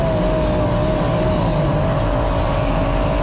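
A USAC sprint car at Volusia Speedway roars loud and steady into the corner, its engine note sliding slightly in pitch as it works through the turn, close and alone.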